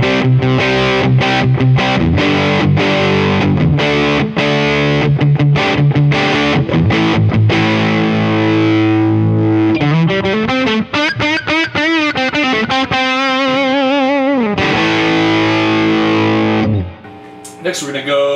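Crunchy electric guitar through a ToadWorks John Bull British overdrive pedal, gain raised, mids about halfway, strums rhythmic chords, then slides and bends through a riff before letting a chord ring out and fade, loud with no speech.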